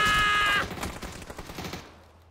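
A rapid burst of video game gunfire, a dense volley of sharp cracks fading out over about two seconds, with no talk.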